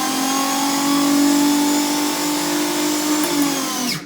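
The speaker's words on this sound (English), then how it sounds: "we're going to put the blender on" A blender making hummus whirs steadily at high speed, a loud continuous motor drone that winds down briefly at the end.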